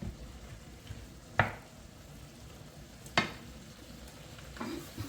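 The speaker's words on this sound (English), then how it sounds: "put the chicken in on top of this and I'm heating it through" Chicken and vegetable stir fry heating in a pan, a soft steady sizzle with a few sharp clinks of utensil against the pan.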